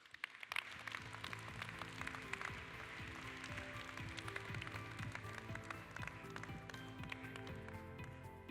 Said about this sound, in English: So please, a warm round of applause as they join us on stage.